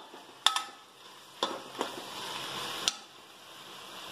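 Vegetables fry in ghee in a pan, a soft steady sizzle broken by a few sharp clicks and scrapes of a stirring spoon against the metal.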